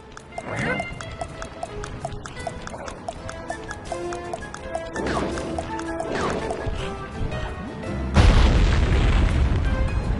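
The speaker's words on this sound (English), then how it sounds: "Place the dynamite when you get near the anchor, or kaboom!" A dynamite stick blows up in the Sly Cooper 3 video game, a sudden loud booming burst late in the clip that follows stretches of game music and scattered sound effects.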